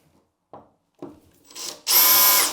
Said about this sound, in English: I'm just using a small little 6mm drill bit.